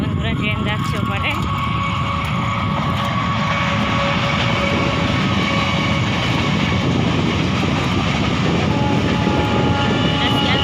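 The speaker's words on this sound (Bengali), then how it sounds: "এই দেখুন বন্ধুরা, ট্রেন যাচ্ছে ওপারে।" A train rolls past on the far side of an open stretch, a loud, continuous rumbling roar that holds steady throughout, with a voice faintly present.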